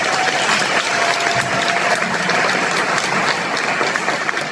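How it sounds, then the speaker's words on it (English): An audience at a schoolyards conference applauds a speaker, giving a dense, continuous, loud patter of many hands clapping together. "Brad, why don't you give Kira a big round of applause?"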